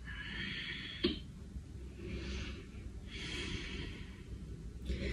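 Slow, deep breaths are drawn in and pushed out during a yoga pose at home, close and fairly soft, with one sharper intake near the start and no talking.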